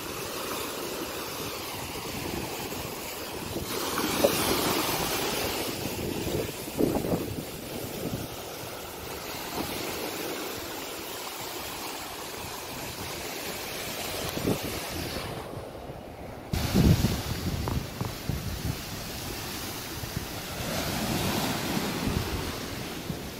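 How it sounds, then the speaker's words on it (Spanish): Sea waves wash onto the beach at Vallarta, Mexico, in a steady rolling surf with swells rising and falling, and wind gusting across the microphone at times. "Y señores, aquí tenemos el mar."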